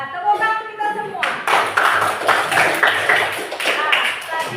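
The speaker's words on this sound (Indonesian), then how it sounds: "tepuk tangan kita semua" A classroom of children clapping their hands together in a burst of dense, fairly loud claps that keep going from about the first second onward, with a voice briefly heard at the start before the clapping.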